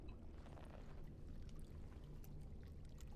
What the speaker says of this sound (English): Dump the water back into the pool.